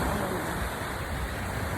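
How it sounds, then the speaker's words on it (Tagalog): Strong ocean waves at Boracay beach make a dense, continuous roaring wash of surf, loud and close, with no clear breaks between breakers. "Sobrang lakas ng alon."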